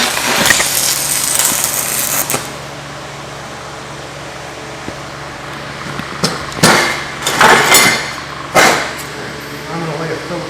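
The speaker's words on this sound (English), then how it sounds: "I'm just going to tack this in here." Tack welding a steel plate with a Yeswelder Firstess DP200 multiprocess welder, a few short crackling bursts near the end after a steady hum, close and fairly loud, with some talking.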